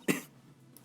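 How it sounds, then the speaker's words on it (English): A single short, sharp cough comes close to the microphone, followed by near silence for the rest of the moment. "a way to cough on stream without it being out of place"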